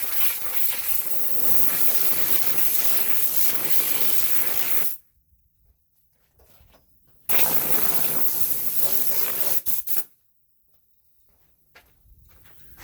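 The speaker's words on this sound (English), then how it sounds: "I'm gonna hit this with a little bit of air" Compressed air blasts onto a car wheel before ceramic coating: two loud, close, hissing bursts of about five and three seconds, separated by near-silence, with faint handling noises in the quiet gaps.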